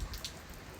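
Soft, steady rain patters down at a distance in Coorg, India, a faint continuous hiss with a few slightly louder drops.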